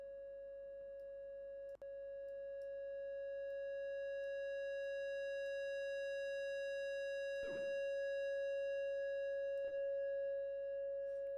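A Reaktor lead synth with a reverb effect sustains one steady, pure tone with bright overtones, held unbroken throughout with a few sharp clicks and a brief noisy burst partway in.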